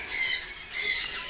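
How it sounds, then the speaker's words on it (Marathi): A parrot in a pet shop lets out two harsh, shrill squawks in quick succession, close and fairly loud, with no voices over it. "अय्या पोपट"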